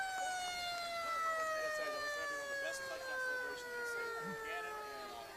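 A distant emergency siren wails with a long, slowly falling tone across a high school football game between Trumbull and Staples, faint under open crowd ambience.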